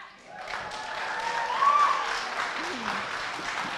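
Audience clapping at a congressional candidates forum, a moderate spread of applause with some voices mixed in over a few seconds.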